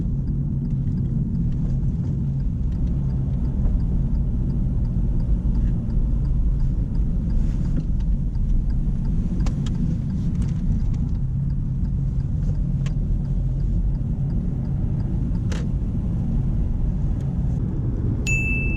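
Car driving and turning on a road during a driving test, a steady low engine and road rumble from inside the cabin, with faint ticks and clicks over it.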